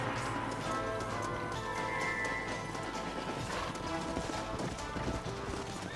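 Rapid hoofbeats of a galloping horse in Red Dead Redemption pound steadily over a dense wash of game music and ambient noise, loud and continuous throughout.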